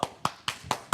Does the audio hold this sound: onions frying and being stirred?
no